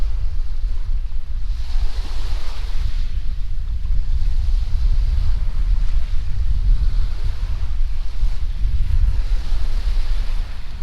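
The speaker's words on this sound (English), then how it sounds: "Some big waves come off of that lake." Big waves from a lake wash onto a rocky beach at Rockport State Park, a loud, continuous surging roar swelling and easing every few seconds, heavy with wind rumble and no talking.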